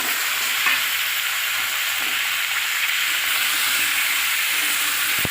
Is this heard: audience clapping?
no